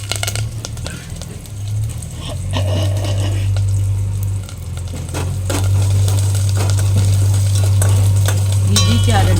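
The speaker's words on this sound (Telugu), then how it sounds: "చారు తాలింపులు మెంతులు ఆవాలు జీలకర్ర కరివేపాకు ఎండుమిర్చి" Fenugreek, mustard seeds, cumin, curry leaves and dried red chillies sizzle in oil for tempering rasam, a loud, dense crackle with stirring clatter over a steady low hum.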